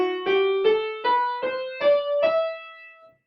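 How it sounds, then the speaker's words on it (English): Seven-note natural minor scale starting on E, played as a clean ascending run of distinct notes at a steady pace, each note sounding clearly and the last one ringing out alone with no voices. "So here's what the natural minor scale sounds like beginning on E."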